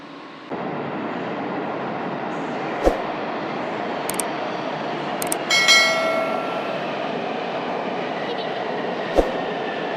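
Tehran's modern metro fills the space with a continuous rumble of a subway train in a station, with occasional sharp clanks, a brief squeal and a metallic chime, while passengers talk faintly in the background.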